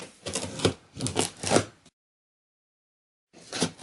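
A knife slits through tape and cardboard while opening the box of a 2018 Asus gaming computer with an AMD Ryzen 7, giving three close, rasping strokes in a row, then a pause and another stroke.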